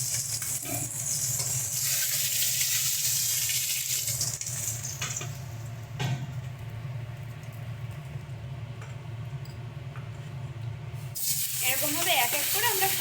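Shankar fish crackles and sizzles in hot frying oil, a loud, continuous hiss that swells and eases, with occasional clinks of a utensil against the pan.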